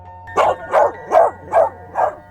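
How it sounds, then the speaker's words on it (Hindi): A dog barks five times in a steady, evenly spaced rhythm, close and clear over a faint background hum. "वह उल्टा कसाई पर भौंकने लगता है"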